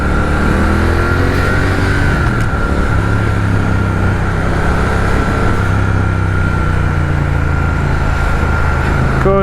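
Motorcycle engine revving loudly and steadily up close, likely a small bike fitted with an aftermarket exhaust such as Arrow or Vance and Hines, holding a continuous throaty drone with a brief rise in pitch near the start.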